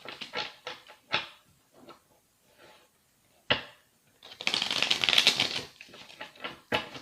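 A deck of tarot cards being cut makes scattered crisp taps and snaps, then a brief rustling riffle, and a few more sharp clicks, all close and fairly soft.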